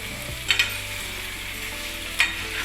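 Steady sizzling of garlic frying in a pan, with a few soft clinks of a utensil stirring, no talking.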